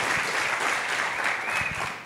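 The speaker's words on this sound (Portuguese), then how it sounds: "Muitos aplausos para eles, por favor." Studio audience on a Brazilian comedy talk show applauding a couple: dense, steady clapping from a crowd, loud and continuous for about two seconds, with no voices over it.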